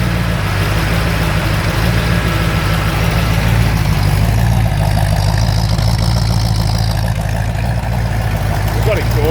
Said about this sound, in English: I've just knocked the idle down